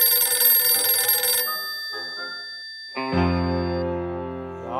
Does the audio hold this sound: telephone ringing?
yes